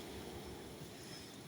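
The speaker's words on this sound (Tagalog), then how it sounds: "Lalo na dito kasi yung alon, hampas ng alon" Steady low roar of surf washing onto shore, continuous and broad, with a windy rumble and no distinct individual wave breaks.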